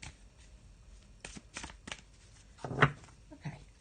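Tarot cards being shuffled by hand, a few soft riffling and slapping bursts at close range, the last one louder, with no talk.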